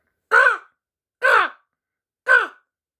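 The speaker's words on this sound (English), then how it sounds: "There were fewer and fewer animals, mostly just crows cawing." Three harsh crow caws, evenly spaced about a second apart, each short and clear against silence, fairly close.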